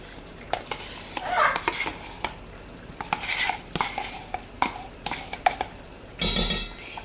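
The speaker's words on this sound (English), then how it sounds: "we're going to stir that all together" A spoon stirs sour cream and cottage cheese together in a bowl, giving soft wet scrapes and small clinks in uneven strokes, with a louder scrape of utensil on the bowl near the end.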